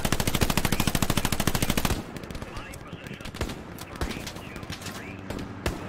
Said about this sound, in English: Hey God, there is a machine gunner.